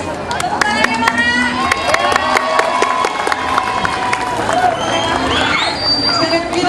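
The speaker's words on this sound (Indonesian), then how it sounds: "Tepuk tangannya mana?" A school crowd at a 2008 junior high school event claps and cheers for a team of participants, loud rhythmic clapping and shouting close by, with chatter and voices mixed throughout.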